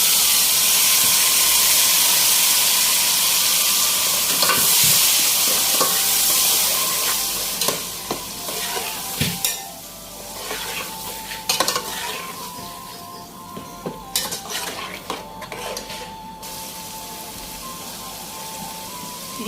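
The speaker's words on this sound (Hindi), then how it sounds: "अब मसाला अच्छे से भून गया है तो मैं उसमें टमाटर डाल लेती हूँ" Masala and tomatoes fry loudly in a pan for a red kidney bean and lobia curry, a steady sizzle broken by repeated scraping stirs and clanks of a spoon against the metal.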